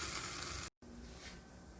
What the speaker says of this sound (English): so while my chaffle is cooking